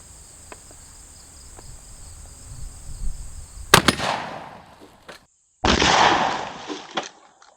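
Shotgun firing standard velocity number 4 buckshot outdoors, one sharp loud blast with a rolling echo, then a second burst of noise, with crickets chirping steadily in the background.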